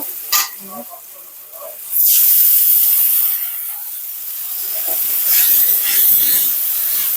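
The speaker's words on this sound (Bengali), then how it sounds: "একটু পেঁয়াজটা ভাজা হয়ে গেলে আমি লাল লাল করে ভাজা হয়ে গেলে নিয়ে নেব" Onions sizzle in hot oil in a pan, a steady bright hiss that swells after a brief quieter start and carries on close and loud, with some faint clatter near the beginning.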